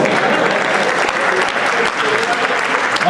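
Dense audience applause fills a comedy show hall, steady and loud throughout with many hands clapping at once, no voices standing out.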